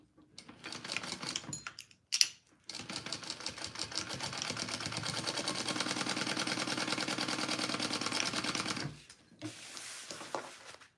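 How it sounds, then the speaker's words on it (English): Sewing machine stitching up the side seams of a garment, a few short bursts, then a long steady rapid whir of about six seconds and one more brief run, close and without talk. "let's sew these sides up"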